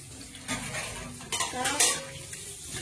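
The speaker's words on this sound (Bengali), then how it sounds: "সব বর্তন ধরছে" Kitchen utensils and dishes are handled in a home kitchen after a meal of fish curry and tomato curry has been cooked, giving several close clinks and scrapes of metal with stirring sounds, and no talk.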